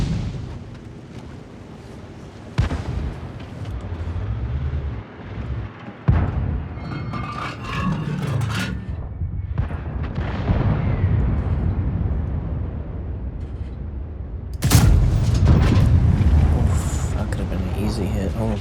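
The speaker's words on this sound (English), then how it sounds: "I'll have to blind fire over there to see." Tank main guns firing in the video game World of Tanks, several heavy booming blasts around 2.5, 6 and 15 seconds over a steady rumble, with someone talking throughout.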